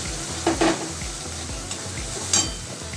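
Ground garlic, ginger, chilli and cumin pastes sauté in hot oil for a soybean curry, with a close sizzle and a few sharp spatula clinks and scrapes against the pan.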